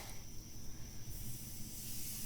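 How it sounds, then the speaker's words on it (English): Steady, loud hissing sizzle of ribeye steaks on a hot grill at a camp, continuous throughout with no talking. "and you can hear the sizzle."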